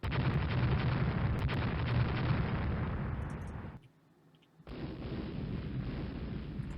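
Naval gunfire in the warship strategy game Rule the Waves rumbles as a heavy, sustained roar of explosions, loud and continuous, then briefly drops away before the booming resumes.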